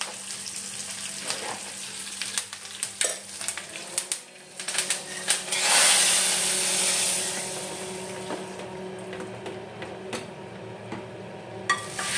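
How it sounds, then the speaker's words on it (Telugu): Sun-dried onion vadiyalu crackle and sizzle steadily in hot oil as a tempering for pappucharu, a close, continuous fry with a louder surge midway and occasional pan clinks. "ఇక్కడ తిరుగుబాత్ అయితే పెట్టుకుంటున్నాను"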